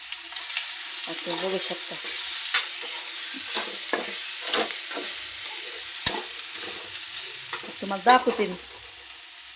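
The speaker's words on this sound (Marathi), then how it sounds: "टाकणार टमॅटो, टाकणार मी असं वांग, कोथिंबीर वांग सगळं एकत्र एकदा सगळं तेलात पडत" Tomato, brinjal and coriander go into hot oil together and fry with a steady, moderate sizzle, while someone talks over it at intervals.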